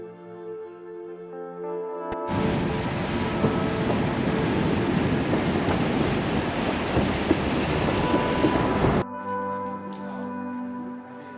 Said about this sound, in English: Then 2 trains came by nearly on top of each other.